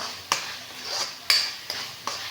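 Rice being mixed into mustard green masala in a pan with a spoon, four sharp scraping clinks against the metal at uneven intervals over a soft background sizzle.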